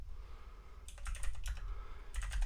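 Close typing on a computer keyboard during an Arch Linux install in VirtualBox, quick clicky bursts of keystrokes separated by short pauses over a low background rumble, with no talking.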